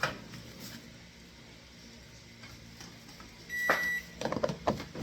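A microwave oven reheats a sandwich cooked the day before, giving a low steady hum with faint ticking, then a few sharp beeps near the end.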